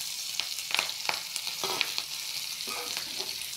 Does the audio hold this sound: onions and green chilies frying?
yes